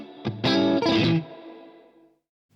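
A chord on an electric guitar with a clean tone goes through a reverb pedal. It rings out loud and close, then trails off in a long, smooth wash of reverb tail that fades to silence.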